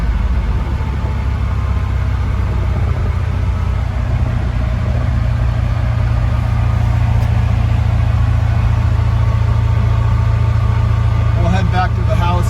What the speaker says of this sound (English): maybe take care of a little engine noise